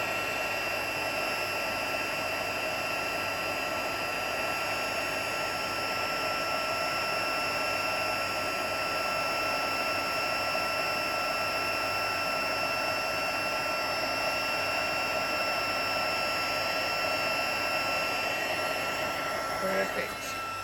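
Heat embossing tool blowing steadily close by as it melts embossing powder on a paper craft treat box, a continuous even whir like a small hair dryer that stops near the end.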